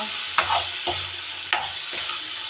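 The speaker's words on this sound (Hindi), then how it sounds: "देखो आलू भी भुज गए, टमाटर भी भुज गए" Potatoes and tomatoes frying in ghee for sabudana khichdi, a steady sizzle broken by several sharp stirring scrapes of a spoon in the pan, with no talk.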